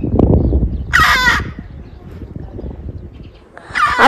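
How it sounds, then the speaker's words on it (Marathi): A crow caws loudly and close by in two harsh bursts, separated by a stretch of quieter background rumble, on a high-altitude road in Ladakh. "यांच्याकडे कावळा बघ कसा आहे"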